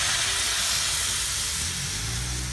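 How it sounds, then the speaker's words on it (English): Water poured into a hot pot of sautéed vegetables for a Japanese vegetable curry sends up a loud, steady rush of steam and sizzling hiss that fills the whole moment without a break. "So now I'm going to take about 4 cups of water and stick inside of here."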